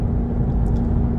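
A heavy, continuous low rumble of a large truck on the road, loud and close, with a steady droning tone.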